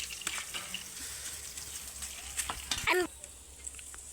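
Crocodile fish coated in mustard oil, salt, turmeric and chili sizzles faintly in a pan, a quiet crackling hiss with a few stirring scrapes and a clink near the end.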